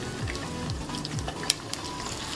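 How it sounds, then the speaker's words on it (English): A red snapper fillet fries in hot oil in a pan, a constant close sizzle and crackle with a few sharper pops, no voices. "The sizzle, that's the sound you should be listening out for."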